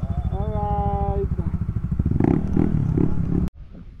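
A motorcycle engine runs steadily while riding on a Philippine road loop near Marawi, with a rising whine early on, then clattering and rumbling before a sudden cut near the end; voices are faintly mixed in.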